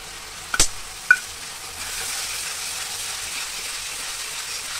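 A couple of sharp clinks of a spoon against a pan, then matar paneer sizzles steadily as it is stirred, close by with no voices.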